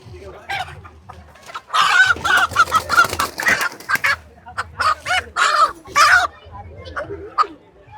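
Fancy poultry breeds cluck and squawk in loud, busy bursts close by, several birds calling over one another with short pauses.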